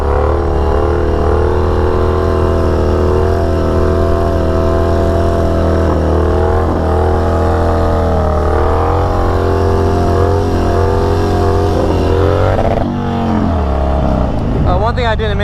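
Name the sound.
Harley-Davidson Dyna motorcycle revving, bouncing off the rev limiter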